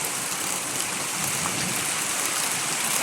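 Heavy rain falling continuously nearby, a constant wash of drops hitting the ground.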